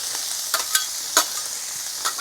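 Cabbage, sausage and shrimp fry on a Blackstone griddle with a steady, close sizzle broken by a few soft scrapes as the food is spread and stirred.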